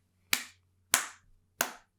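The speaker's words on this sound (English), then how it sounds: "Slow round of applause for the person who typed up that piece of trivia." Three slow, deliberate hand claps, evenly spaced about two-thirds of a second apart, each a sharp close smack with a short decay, and no talking.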